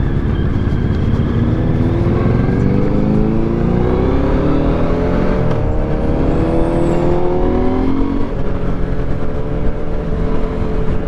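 A Morbidelli C1002V V-twin motorcycle engine pulls hard under acceleration on the road, its loud, continuous drone rising steadily in pitch through the gears, up close with wind rush and no talking.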